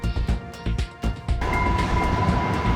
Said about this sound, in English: And as a befitting shot, Rail Runner trains.